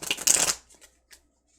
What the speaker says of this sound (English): Let me do another shuffle and see if that helps things.